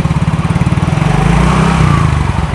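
A used motorcycle engine idles close by with a steady, even putter, loud and continuous throughout.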